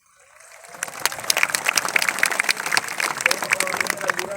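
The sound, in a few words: audience applauding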